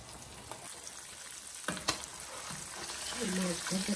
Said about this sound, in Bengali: মাছ ভাজাটা হয়ে গেছে